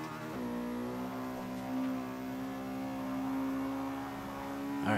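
Engine of a 1997 Honda Civic Type R in Forza 5, held at full throttle: a steady, close, high-revving front-wheel-drive four-cylinder whine sustained throughout, rising slightly at the end.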